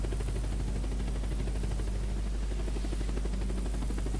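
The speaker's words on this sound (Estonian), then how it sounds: "helikopter on ju." A helicopter in the survival video game Unturned makes a steady, loud rotor thrum and engine drone that fills the whole clip without pause.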